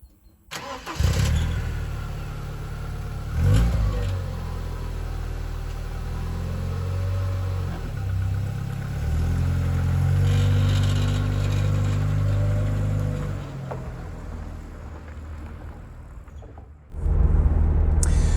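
A Ford Granada Mk3 Ghia X with a 2.9 litre engine, heard from inside while driving: a smooth, steady engine hum with gentle rises in revs, fading near the end before a brief louder burst.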